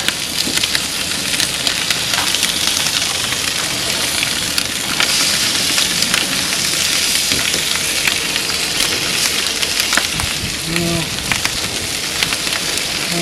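Pieces of already-cooked smoked salmon warming on a Monument Denali 605Pro grill, giving a loud, steady, continuous sizzle throughout with a brief clink near the end.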